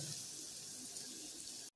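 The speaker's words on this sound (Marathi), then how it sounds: "बटाट्यात थोडं पाणी टाकलेलं आहे" Water poured into a pot of potatoes makes a brief, steady splashing rush close by, stopping abruptly at the end.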